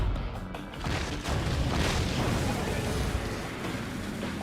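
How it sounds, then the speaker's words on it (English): Miasma cannons fire in the Sengoku Basara 3 video game, heard as a dense, continuous roar of booming blasts and rumbling bursts over several seconds, with a voice briefly speaking at the start. "Miasma cannons."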